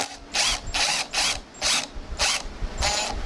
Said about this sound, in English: So we're going to screw this in